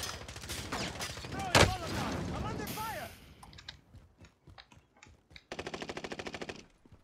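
Gunfire in Call of Duty Warzone: sharp automatic bursts crackle under excited voices, then a tight, rapid volley of evenly spaced shots rings out near the end.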